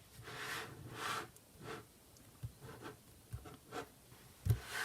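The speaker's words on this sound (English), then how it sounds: "we're going to spread the cards right across like this" Oracle cards slid and spread across a table by hand, soft papery swishes and brushing rubs in a loose rhythm of strokes, close and quiet, ending in a small tap.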